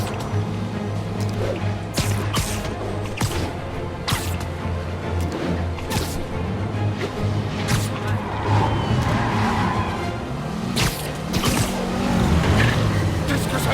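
A car chase in the video game Marvel's Spider-Man, with engine drone, tire squeals and sharp crashes and impacts punctuating a busy, continuous mix, while someone talks over parts of it.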